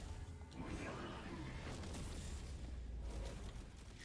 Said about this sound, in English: avoid all the explosions and then I'm safe